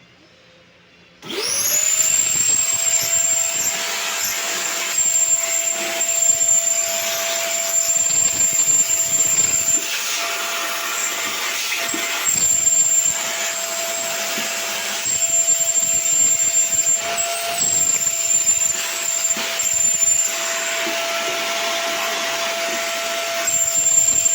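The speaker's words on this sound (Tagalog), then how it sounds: "Vacuum pa ba ito?" A vacuum cleaner switches on after a brief quiet moment and whines loudly and steadily, sucking dust from a desktop computer, its pitch and suction noise shifting slightly as it moves.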